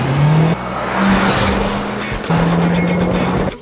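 A Mitsubishi Lancer Evolution race car with a 2-liter inline four-cylinder engine roars loudly on track, revving through rising pitches and shifting gears, with tire noise and a continuous dense engine drone throughout.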